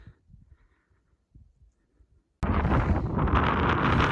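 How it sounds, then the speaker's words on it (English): Wind on a mountain ridge in Kananaskis Country, at first faint low rumbles, then a sudden loud, steady roaring gust that buffets the microphone. "This wind might make it a little trickier on the ridge."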